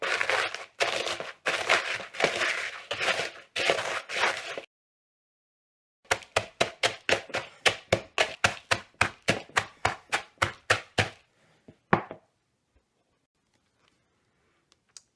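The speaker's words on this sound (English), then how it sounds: "I'm just going to use a kitchen cup, and I'm going to crush them like that." A kitchen cup crushing pie crust ingredients for a no-bake cranberry apple raisin pie, making a rapid series of crunchy, close thumps in two bursts separated by a pause, then a last few taps before silence.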